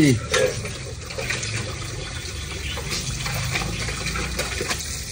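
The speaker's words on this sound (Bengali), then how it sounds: "আনন্দে আমার ইচ্ছা করছে তাই জল ঘাটছি, আনন্দে কি করবো, কাজ নেই তো তাই বাসন মাজছি" Water splashing and running continuously in a sink while dishes are washed by hand, a steady close wash with occasional sloshes, with a voice speaking over it at times.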